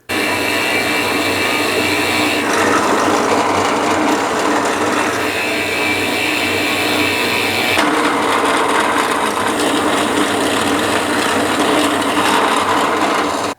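A drill press bores into wood with a Forstner bit, a loud continuous whirring grind that holds steady for several seconds, with shifts in tone as the cut deepens.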